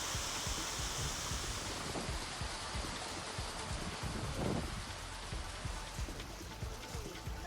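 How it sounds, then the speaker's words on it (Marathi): Steady unseasonal rain pouring down in Nashik city, a dense continuous patter of drops on surfaces, even and unbroken throughout. "नाशिक शहरात अवकाळी पाऊस पडला"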